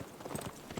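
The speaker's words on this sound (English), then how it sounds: "we get to move our horses." Horse units moving in the video game Civilization VI, a quick burst of clip-clopping hooves, close and moderately loud, lasting under a second.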